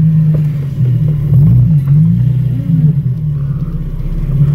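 Nissan 350Z with a swapped engine idles with a deep, lumpy rumble close by, rising in a few short revs before settling back.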